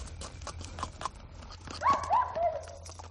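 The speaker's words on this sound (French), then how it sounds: "c'est Falstaff, le cheval" A lame horse's hooves clop in an uneven rhythm on a hard surface, with a short whinny-like tonal cry rising midway.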